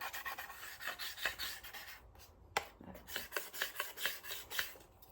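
Light hand sanding over varnished miniature dollhouse furniture to key the surface, a run of short, soft rasping strokes in an uneven rhythm, close and fairly quiet with no talking.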